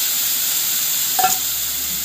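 Ground cumin, chili and turmeric sizzling in a hot pan, a close, steady bright hiss with a brief scrape or clink midway, no talk.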